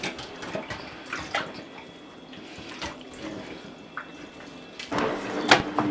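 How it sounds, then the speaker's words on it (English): A fish rinsed under a running kitchen tap while being cleaned for Jamaican escovitch fish: a steady splash of water with small irregular knocks and drips, louder splashing near the end, no talk. "After this, I will wash the fish properly."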